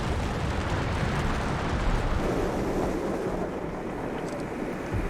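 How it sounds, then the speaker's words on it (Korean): A deep rumbling roar from the calving of the Perito Moreno glacier in Argentina as ice collapses into the glacial lake, a broad continuous thunder-like noise with wind, steady and loud for several seconds with no voices. "페리토 모레노 빙하는 거대한 빙하 붕괴를 볼 수 있는 아주 특별한 빙하다."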